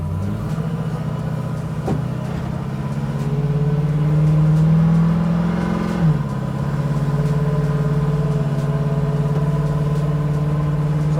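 Car engine on a dyno revving hard, a loud steady drone that climbs in pitch, then drops sharply at a gear shift and pulls on again, continuous and close.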